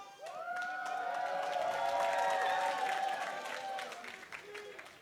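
A crowd at a League of Legends LCS esports match between Dignitas and Immortals cheering and applauding in a large arena, with a sustained swell of roaring voices and clapping and tonal whoops over it.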